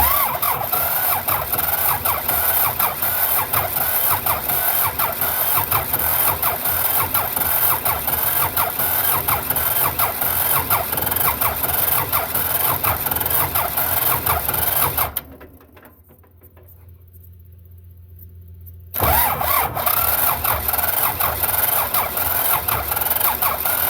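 Belarus 250 tractor with a fuel delivery problem cranking hard without catching, a loud rhythmic starter churn for about fifteen seconds, a few seconds of near silence, then cranking again just as loud.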